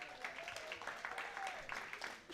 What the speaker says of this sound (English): Let's get a round of applause for Taylor.